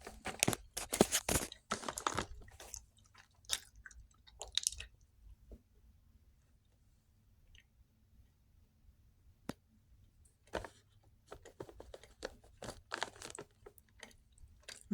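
Close, crunchy chewing of Chips Ahoy confetti cake cookies with rainbow sprinkles comes in irregular bursts, heavy at first, then a quiet pause before the chewing resumes.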